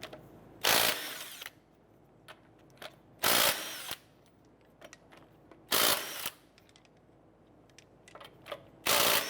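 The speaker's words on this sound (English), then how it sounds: "19mm socket, we're going to go ahead and remove our lug nuts." A power tool removes the lug nuts with a 19mm socket on a 2008-2012 Honda Accord, four loud whirring bursts each about half a second long. Faint clinks and rattles of the socket and nuts fall between them.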